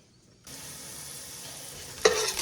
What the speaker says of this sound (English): As you can see, my onions are getting a little bit brown.